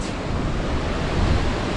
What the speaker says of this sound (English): It rained all day yesterday, consequently the streams are full.